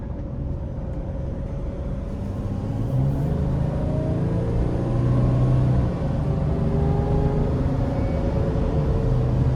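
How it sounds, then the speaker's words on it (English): A 2022 Mercedes-Benz Sprinter 3500XD conversion van accelerates on an interstate, its engine a steady low drone under road and wind rumble that swells slightly midway, heard from inside the cabin with no talking. "We're gonna accelerate, see how peppy it is as well."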